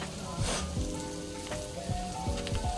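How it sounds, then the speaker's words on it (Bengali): Bitter gourd frying in a pan over a wood-fired stove, a steady close sizzle with crackling spatter and a few scraping stirs, no talk. "উচ্ছে ভাজা হচ্ছে"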